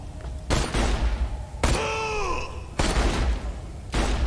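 Bursts of gunfire from the Borderlands 2 video game, several loud broadband volleys at a steady pace, with a whining in-game voice groan sliding downward between the shots.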